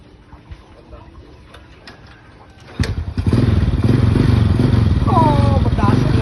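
A new motorcycle engine starts up partway through and then runs loudly and steadily close by, following a quieter stretch with clatter and background noise; people talk over the engine.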